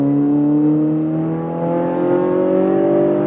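An exotic race car at full throttle on a track, the engine climbing in pitch as it accelerates, loud and close, with no talk.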